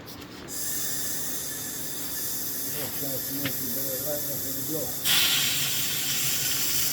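Steady hissing with a bubbling, sputtering texture, loud and close, as HDPE plastic melted by a laser boils, rising to a harsher hiss near the end.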